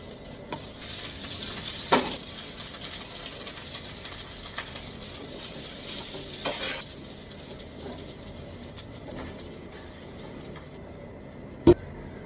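Cooked rice stirred into a pan with tuna, a steady soft sizzle running throughout with a few sharp scraping clacks of a utensil and a loud knock near the end.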